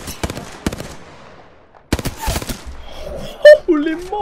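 Automatic weapon fire in Apex Legends, rapid bursts of loud gunshots broken by short pauses, with a person talking over the last part.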